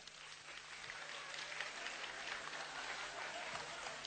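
Clapping from the audience at a Chinese New Year stand-up comedy show, a fairly quiet, diffuse spatter of hands across the room that holds steady for several seconds.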